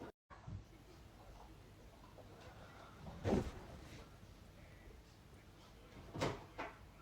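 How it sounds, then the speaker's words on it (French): A child rummages through household drawers and cupboards, producing two distinct knocks and rattles of doors or drawers over low background noise. "Il fouille dans les tiroirs, dans tout."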